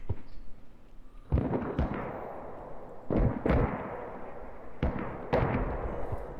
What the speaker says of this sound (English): Mortars landing over here.